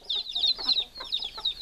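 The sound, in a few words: rooster trying to mount a hen, chickens squabbling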